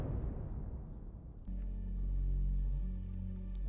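Layered orchestral hits from the BBC Symphony Orchestra plugin, used in a music production session: a low rumbling swell gives way at about one and a half seconds to a big, loud, sustained tonal hit that rings on alone.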